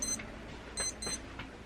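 A wristwatch alarm sounds in short bursts of high, thin electronic beeps, three quick clusters spaced apart over a faint background hum.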